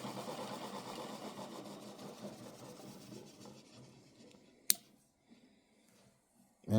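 Toroidal counter-rotating pulse motor spinning on a bench, a steady buzzing, rattling whir that gradually fades as it winds down, followed by a couple of sharp clicks and a loud bump at the end.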